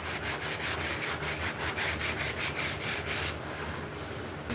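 A belt sander works on a carved wooden cane in a workshop, a loud continuous abrasive rasp with a rhythmic pulsing as the wood is pressed and moved, easing off near the end.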